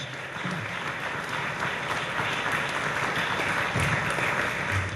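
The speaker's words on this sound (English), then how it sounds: "So give those guys a round of applause." Steady, dense applause from a large audience at a State of the City address, continuous and fairly loud throughout with no talk over it.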